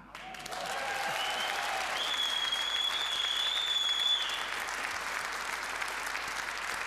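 Audience at a Danish comedy show applauding, a dense, steady wash of clapping that rises quickly and holds, with a brief high whistle partway through.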